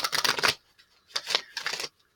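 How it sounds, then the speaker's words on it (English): Oracle cards are shuffled by hand in three quick bursts of soft riffling and slapping, close and alone with short pauses between. "we're going to shuffle the energy or the Earth Magic Oracle cards"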